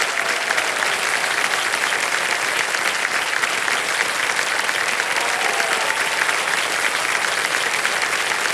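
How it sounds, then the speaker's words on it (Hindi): Studio audience at a game show clapping, a dense continuous burst of applause held at steady loudness throughout. "ताली बजती रहे इनके लिए"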